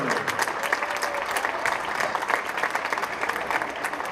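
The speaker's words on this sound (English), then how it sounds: "A round of applause for our senior band members." Crowd in a high school gym at a boys basketball game applauding senior band members, dense continuous clapping filling the space at a loud, even level.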